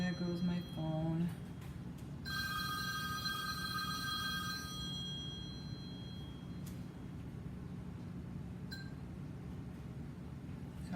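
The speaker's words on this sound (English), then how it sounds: "I hate when my phone goes off." A mobile phone rings with a high, sustained electronic tone lasting a few seconds over a steady low hum of room noise, heard indoors during resin art work.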